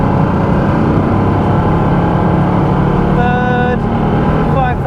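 A Porsche 912 flat-four drones steadily at high revs as it accelerates hard through the gears, the engine note loud and continuous inside the car, with a brief shift and rising pitch near the end.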